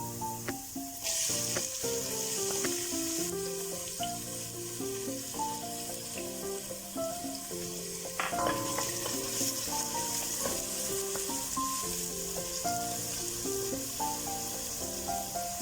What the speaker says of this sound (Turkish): Havuçlarımız kavruldu biraz. Şimdi soğanlarımızı ilave edelim.